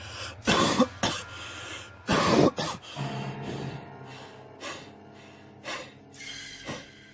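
A young man coughs hard in several harsh, close bursts, then pants and gasps in ragged, uneven breaths, alone with no talk.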